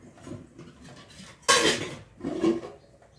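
A metal lid clanks down onto a pot of simmering puli kuzhambu with a bright clatter, followed by a second scraping rattle as it settles.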